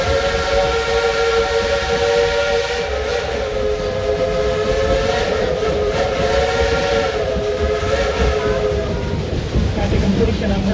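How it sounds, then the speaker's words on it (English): A coal-burning Type 282 steam locomotive pulling the Dollywood Express sounds a long, loud chime-like steam whistle that holds steady for the whole stretch over the rumble of the moving train. "a genuine coal-burning, steam-driven Type 282 locomotive"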